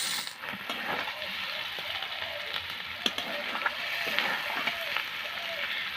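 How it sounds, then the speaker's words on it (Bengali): Chicken with three green chilies sautéing in a pan for kosha with jute leaves, a steady close sizzle and crackle running throughout with occasional sharper pops. "দিয়ে দিচ্ছি তিনটে কাঁচা লঙ্কা এগুলো কত সুন্দরভাবে কষে নিচ্ছি"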